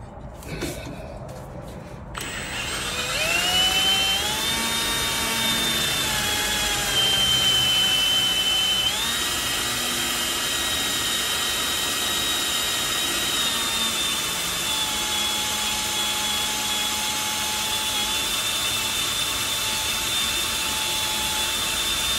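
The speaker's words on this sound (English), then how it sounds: "Now that's your pilot hole." Pilot hole being drilled into the frame of a 1963 Chevrolet Impala near the driveshaft tunnel for a sway bar install, a steady whining drill tone with rising pitch sweeps that runs continuously and loud, close by, with no talk over it.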